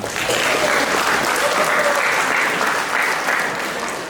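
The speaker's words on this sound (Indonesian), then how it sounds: "tepuk tangan buat kalian semua" Dense, steady applause from a large audience at a regional head's community political education event, sustained for several seconds and fading slightly at the end.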